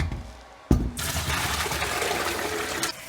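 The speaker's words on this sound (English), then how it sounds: "It is now time to get these bad boys rinsed and drained" Running water pours and splashes steadily over salted vegetables being rinsed and drained for old-fashioned mustard pickles, starting abruptly after a brief thump and continuing as a close, even gush.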